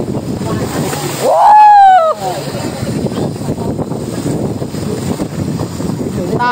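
Strong wind buffets a fishing boat on the rough South China Sea, a constant roar of wind and sloshing water, briefly broken by a loud rising exclamation from a voice on deck.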